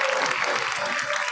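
Parents applaud at a pre-primary school convocation ceremony, a dense, steady wash of clapping from a crowd that stays even and close for the whole moment, with no voices breaking through.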